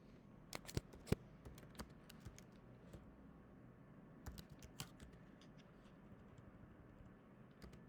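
Quiet, sparse keystrokes tap on a computer keyboard in irregular bursts, with brief pauses between clusters, close but faint.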